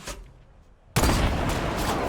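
Sniper rifle fire in a video game, a quiet stretch suddenly cut by a loud, close burst of gunfire that keeps roaring for about a second afterward.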